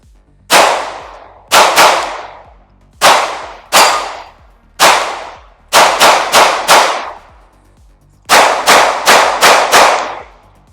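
Glock 47 pistol fired in a shooting drill: loud, sharp shots in quick groups, two singles, then pairs and a fast string of five or six, each followed by brief ringing decay, with no talking.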